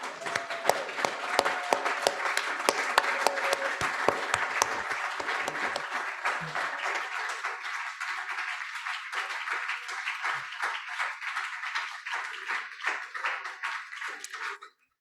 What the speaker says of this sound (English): let's give one big round of applause to all the performers